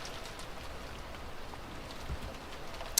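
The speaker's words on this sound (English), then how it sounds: "Outside, the rain was no longer falling weakly." Heavy rain in a visual novel: a steady, soft hiss of falling rain with faint scattered patter, continuous and even throughout, with no voices.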